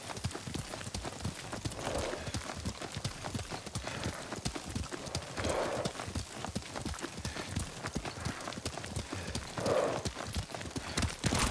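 Rapid, rhythmic hoofbeats pound steadily throughout, a horse in a video game running at speed close by, with occasional breathy snorts and no talking.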